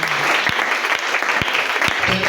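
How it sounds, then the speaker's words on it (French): A church congregation claps at a Sunday service, a dense, loud wash of hands that stays steady for a couple of seconds, with a voice speaking briefly near the end. "Acclamons Dieu pour son amour."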